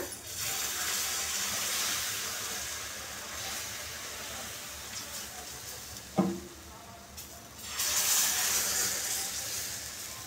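Jowar flour dosa batter sizzles on a hot pan, a steady close frying hiss that swells louder near the end, with a brief clatter midway and no talking.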